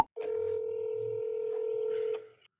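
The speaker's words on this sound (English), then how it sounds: "Say, Cole, you better answer that dang phone" A telephone ringing, one long steady electronic tone lasting about two seconds, clear and moderately loud with no voices over it.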